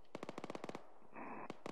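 Rapid automatic gunfire in Arma 3, a burst of about nine close, evenly spaced shots followed by a brief hiss and a couple more shots.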